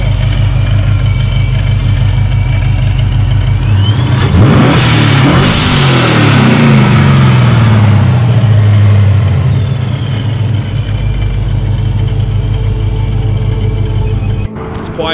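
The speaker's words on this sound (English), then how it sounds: "And we hear the engine." Modified Dodge Challenger R/T engine revving hard in one loud, rising-and-falling burst, then settling into a steady idle; close and loud throughout, with no talking.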